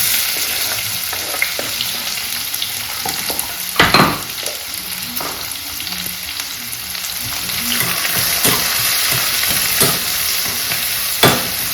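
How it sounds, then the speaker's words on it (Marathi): Onion frying hard over fairly high heat with crushed garlic and green chilli, a steady loud sizzle that runs throughout with occasional sharper crackles and spatula scrapes. "कांदा आपल्याला एकदम ना फ्राय करून घ्यायचा आहे लाल बुंद असं फ्राय करून घ्यायचं आहे"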